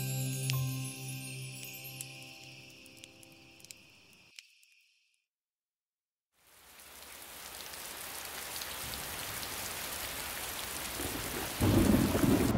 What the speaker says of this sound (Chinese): 下雨了，是下雨了吗？